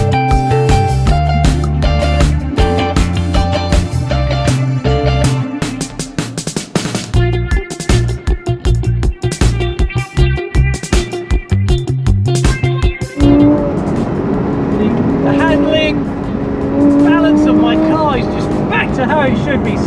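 A Porsche Cayman GT4 driving with its exhaust valves open, the engine note loud and close, revving and shifting through gears, then settling into a steadier cruise with rising tones.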